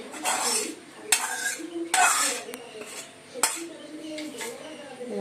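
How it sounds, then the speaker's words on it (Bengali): Cashews, raisins, beans, carrot, capsicum, cardamom, cinnamon and cloves stirred together in a pot, with a few distinct metal spoon scrapes and clanks against the pot over a soft background. "ভালো করে মিশিয়ে দিচ্ছি"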